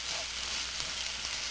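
Ginger garlic paste and golden onions fry for kadai chicken, giving a short, steady, close sizzle with a faint hint of stirring and no speech.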